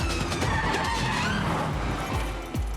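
A tuk-tuk skids in a movie car chase amid a dense, loud rush of engine noise, screeching tires and swooping pitch sweeps, with no talking.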